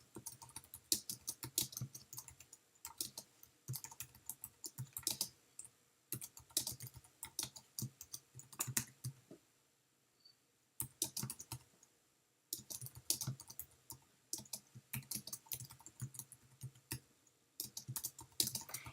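Typing on a computer keyboard, quiet rapid clusters of key clicks in bursts with short pauses, close and alone.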